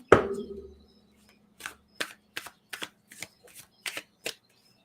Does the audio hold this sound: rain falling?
no